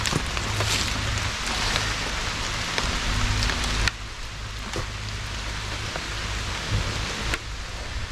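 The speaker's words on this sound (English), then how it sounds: "Where I'm from, it's raining, by the way." Steady rain patters on a surface nearby, a dense hiss with occasional louder drops and a low background rumble.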